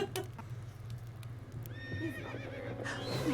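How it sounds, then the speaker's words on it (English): A horse in a Nancy Drew ranch video game gives a quavering whinny over soft clip-clop hoofbeats and low ambient game noise, moderately near. "It's a horse! It's glowing In the dark!"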